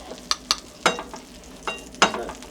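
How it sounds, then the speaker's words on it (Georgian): Butter melts in a frying pan over a fire, with a soft continuous sizzle broken by several short scraping strokes as it is stirred, close and fairly quiet. "ჯერ ტაფაზე გადაგვაქვს კარაქი"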